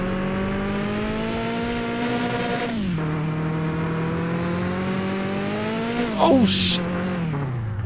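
A car in the video game Mon Bazou drones loudly with a buzzy engine whose pitch dips and climbs as it accelerates. A brief tire screech marks the drift near the end, and a voice gives one short exclamation.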